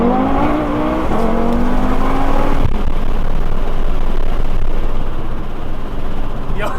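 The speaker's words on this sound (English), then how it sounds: "this has to be one of the fastest accelerating cars that I've ever driven" An 800 HP big-turbo stage 5 Audi TT RS pulls hard from first gear, its engine note climbing steeply before a sharp shift and continued loud, roaring acceleration heard from inside the car.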